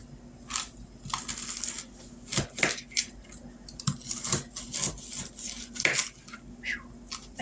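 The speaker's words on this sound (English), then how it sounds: "We're going to cut up this big piece." A big cold piece of ham is cut up for ham and white bean soup: close, irregular knife clicks, crunches and scrapes against a hard surface come in short bursts, with no talk.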